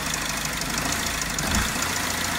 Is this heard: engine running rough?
yes